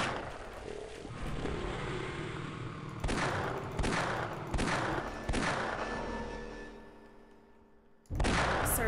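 Gunfire in Half-Life on PC: repeated loud broadband bursts at about 3, 4, 4.5 and 5.3 seconds over a continuous rumbling game background, then a quieter stretch and a sudden loud blast near the end.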